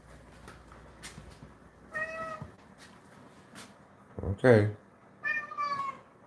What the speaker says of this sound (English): You can hear the power of his meows.